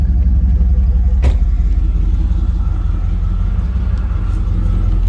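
A 1988 Pontiac Firebird Trans Am with a 5.7L V8 drives along, its loud low engine rumble steady from inside the car, with one sharp click near the start.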